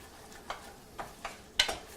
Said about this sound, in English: our onions are cooking down nice right now